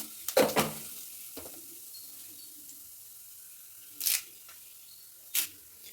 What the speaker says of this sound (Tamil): 1/4 டீஸ்பூன் வந்து சீரகம் போட்டுக்கங்க.